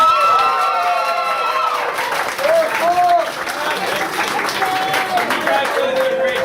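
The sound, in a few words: applause for the stock group at company party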